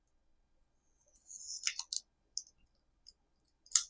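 A knife slices through a block of Wisconsin cheddar still in its plastic wrap, giving a few quiet crinkling, crunchy cuts in short bursts with pauses between, close and faint.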